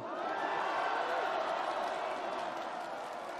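A large rally crowd in Seoul cheers and applauds Democratic presidential candidate Lee Jae-myung, a dense, steady roar of voices and clapping that holds at full strength throughout.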